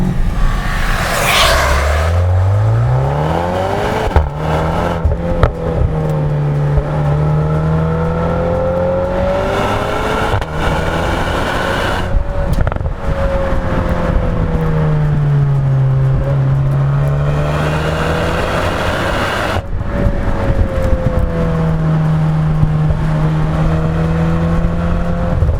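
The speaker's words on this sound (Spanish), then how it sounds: "Y suena genial, además, tiene un tono de escape que puedes modular" A Volkswagen Arteon R driven on the road, its engine and exhaust droning loud and close with rising and falling revs and gear changes, no talking.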